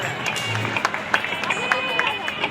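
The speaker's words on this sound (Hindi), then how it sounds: "जोरदार तालियों से इनका स्वागत करिए।" Audience clapping at a Ramleela performance during a Hindu festival, scattered sharp claps rising in bursts amid crowd murmur, with a voice speaking over the applause.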